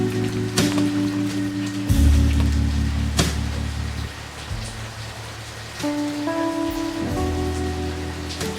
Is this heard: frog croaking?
no